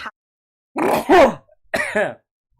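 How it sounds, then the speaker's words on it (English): A sharp sneeze followed quickly by two harsh coughs, loud and close, with silence around them. "Every time I sneeze, I have like a weird cough at the end"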